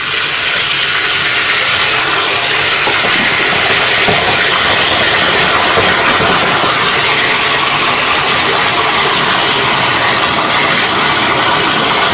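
Pressurised water sprays steadily onto a Samsung Galaxy A52 5G smartphone during a water-resistance test, a loud, continuous broadband hiss with no break and no talking.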